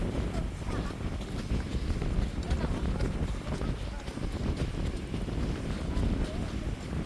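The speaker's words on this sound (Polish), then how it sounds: "Już słychać wiatr, jak się zmógł." Steady, heavy wind roars into the microphone without letup, a dense low rumble at an exposed beach on the Baltic coast at Rowy, Poland.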